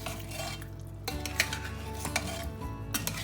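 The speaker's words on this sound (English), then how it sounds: "we're going to give it a good stir around right now, making sure everything's coated" Gnocchi with spinach in a mustard and herb cream sauce being stirred in a pan, with repeated clinks and scrapes of the utensil against the metal over a low, steady sizzle, close and fairly quiet.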